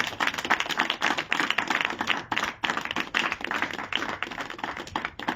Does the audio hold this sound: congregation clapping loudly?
yes